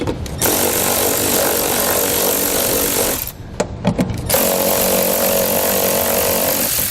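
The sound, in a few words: 12mm socket removing fasteners on a Toyota Highlander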